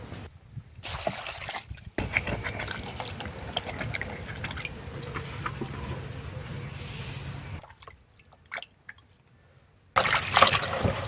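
Pumpkin shoots and other vegetables are washed by hand in water, with steady splashing, trickling and sloshing that stops briefly near the end before a final burst of splashing.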